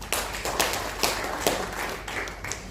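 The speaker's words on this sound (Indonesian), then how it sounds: "Tepuk tangan bagi Yesus." Scattered handclaps from a church congregation clapping for Jesus, a few loose near claps in an irregular beat, fairly soft and alone.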